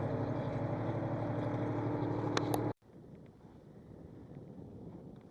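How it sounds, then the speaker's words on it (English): A tractor drives on a farm, a steady loud engine drone with a clear harmonic hum that cuts off abruptly, leaving softer rumbling wind noise. "It's a little noisy driving the tractor."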